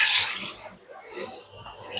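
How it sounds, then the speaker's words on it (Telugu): Water poured over tamarind in a bowl to soak, a short splashing gush close by that fades, then a lighter trickle. "ఇప్పుడు వాటర్ వేసేసి నానబెట్టేసుకుందాము"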